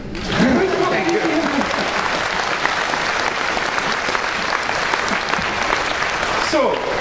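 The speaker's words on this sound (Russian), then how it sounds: "Аплодисменты!" Steady audience applause at a business presentation, dense and sustained from start to finish, with faint voices mixed underneath the clapping.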